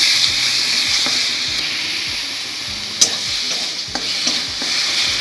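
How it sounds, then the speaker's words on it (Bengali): Garlic paste frying in hot oil with bay leaves, dried chillies and whole spices, stirred steadily with a utensil; a continuous close sizzle carries repeated scraping strokes and a few sharper clinks, with no talking. "রসুন পেস্টটা ভালো করে নাড়াচাড়া করে নেব।"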